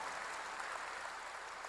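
A church congregation claps during a sermon, a soft, steady wash of many hands heard from a distance.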